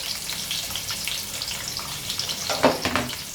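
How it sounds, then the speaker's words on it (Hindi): Sliced onion frying in hot oil with whole garam masala spices, a steady soft sizzle and crackle throughout, with a few louder stirring scrapes near the end. "और अब इसको थोड़ा सा हम फ्राई कर लेंगे प्याज को हल्का सा।"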